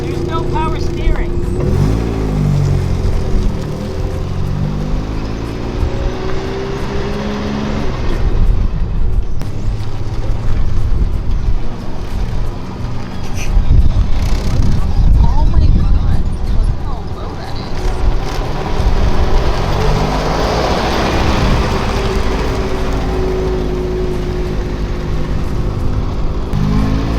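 Cab of an old pickup truck with a swapped-in 20R engine and no power steering, heard from inside while riding: a steady engine drone and road rumble with occasional revving swells, and people talking over it.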